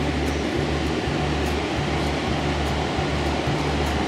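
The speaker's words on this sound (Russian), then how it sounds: "Слева от нас шумит река." A mountain river rushes steadily alongside a trail in the Amanauz gorge near Dombay, a loud, continuous broadband roar with a low rumbling undertone and no voices.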